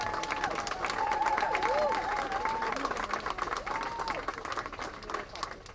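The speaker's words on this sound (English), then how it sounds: "I think they deserve a massive round of applause as well." Sustained audience applause at a Finsbury Park Mosque unity vigil against racism, dense and even throughout, with a voice and whoops carrying over the clapping.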